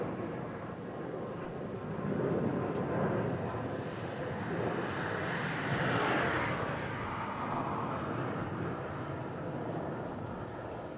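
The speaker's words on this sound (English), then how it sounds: "I think it's a Vueling we have on finals" A Vueling airliner on final approach at Barcelona El Prat airport passes as a broad, steady jet roar that swells toward the middle and stays fairly distant, under a wash of outdoor background noise.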